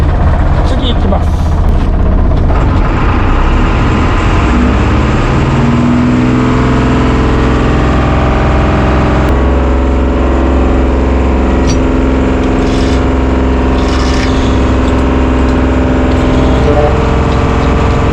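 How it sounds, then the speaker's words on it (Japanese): A boat engine runs loud and close with a steady, droning mechanical tone, its engine behaving oddly as if drawing air, while someone talks over it throughout. "ちょっと2番目上げたんですけど、エンジンの調子がおかしい。"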